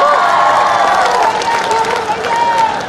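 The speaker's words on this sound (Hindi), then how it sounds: "Come on everybody, जोरदार तालियां।" A crowd at a live stage show in Jaunpur applauds and cheers in a loud, continuous roar, with a voice calling out over the noise.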